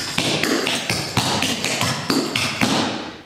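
Tap shoes working through a duet routine of hops, knocks and heel drops on a hard floor, giving sharp, evenly spaced taps and thuds in a steady rhythm, close and loud, with no voices.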